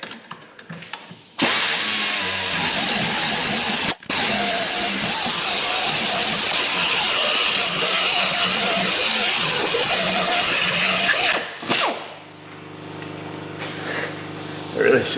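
A power tool blade grinding through rusted bolts on a Subaru during rear wheel bearing work, a loud harsh continuous cut lasting about ten seconds before winding down, with some voices near the end.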